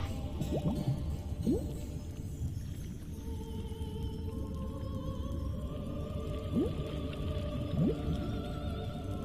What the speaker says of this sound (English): Ah, this is real water.